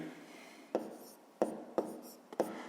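A pen writes out a math step on paper: four distinct scratchy strokes at irregular intervals, close and quiet, with no speech.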